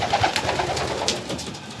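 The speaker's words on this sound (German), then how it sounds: "Was sind das denn jetzt für Tauben?" Racing pigeons coo softly inside a breeding loft, a few low, rolling calls close by over quiet background rustle, with no talking.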